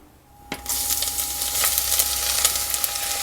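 Chopped onion dropped into hot olive oil in a cast-iron pot catches with a sudden burst of sizzling, then settles into a steady, close crackling fry.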